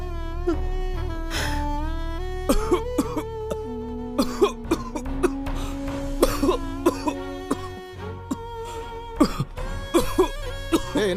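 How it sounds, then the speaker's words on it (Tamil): A man coughing repeatedly in a dramatic, exaggerated way in a Tamil Christian film scene, with a run of harsh hacks and throat clearing laid over sustained background music. "என்னடா டிபி வந்த மாதிரி இருமுற?"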